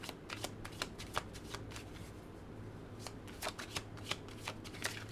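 Tarot cards being shuffled by hand, close and crisp, with steady riffling and repeated sharp card snaps throughout, no talking.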